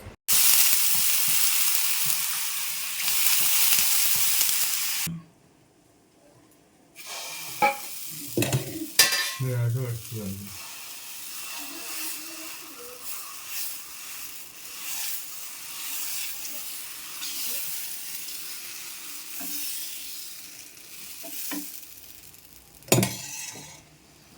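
Dosa cooking on a pan wiped with a little oil, a loud hissing sizzle at the start that cuts off, then quieter scraping, clinks and handling noises with faint crackle continuing.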